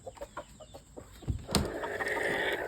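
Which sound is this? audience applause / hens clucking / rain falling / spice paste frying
hens clucking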